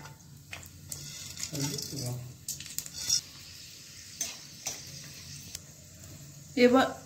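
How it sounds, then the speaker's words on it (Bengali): A piece of cinnamon, ten peppercorns and four cardamom pods sizzle in hot oil for restaurant-style chicken dopiaza, with low frying texture broken by short bursts and utensil clinks, and a voice speaking in places. "তেল গরম হয়ে গেছে, এবারে আমি ফোড়ন দেব।"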